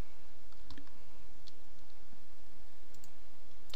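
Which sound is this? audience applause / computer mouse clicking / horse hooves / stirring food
computer mouse clicking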